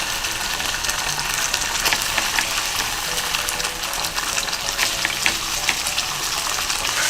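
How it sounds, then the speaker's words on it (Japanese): Kagome ketchup and a spoonful of oil stir-fry in a frying pan already used for a fried egg, making a loud, continuous bubbling sizzle with stirring for Napolitan pasta. "でこれ炒めます"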